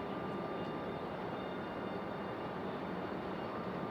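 A Boeing 737 MAX 8 jet departs from Raleigh-Durham International Airport, its engines a steady, broad distant roar that holds evenly throughout.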